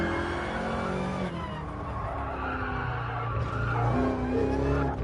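A racing car in a sim racing game runs at full throttle with heavy steering lock, its engine roaring loud and steady while the tyres squeal and slide continuously throughout.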